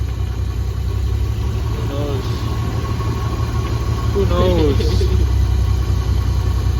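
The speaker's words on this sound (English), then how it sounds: "Other than that exhaust bouncing around and making noise over there, it sounds to be running pretty good." A Toyota Supra engine idles steadily with a loose exhaust rattling and buzzing against it, a constant low rumble throughout while someone speaks briefly over the running motor.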